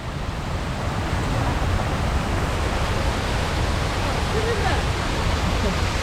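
Killen Falls pours in a steady, broad roar of falling water, a continuous close rushing wash with no breaks.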